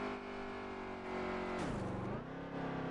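Race car engine held off full throttle in a Pocono sim racing series event, a steady droning whine that dips and rises as the revs change, faint and alone.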